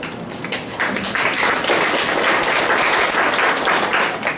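Lecture-hall audience applause for the opening speaker at a Taiwan talk series, a dense sustained burst of clapping from many hands, loud and even throughout, with no talking over it.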